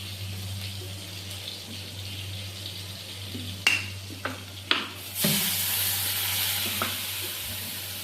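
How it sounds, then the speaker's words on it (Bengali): Spice masala sautés in a pan with a steady low sizzle, a few sharp clinks of a spoon midway, then a louder hissing surge that carries on to the end. "মশলাটাকে ভালো করে কষিয়ে নেব"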